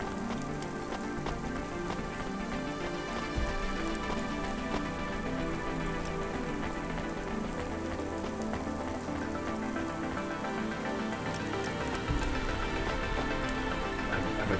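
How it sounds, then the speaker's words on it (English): Steady rain falls in the video game Cloudpunk, a continuous even patter that holds for the whole stretch, with faint sustained tonal sounds running underneath and no talking. "It's raining, Jack."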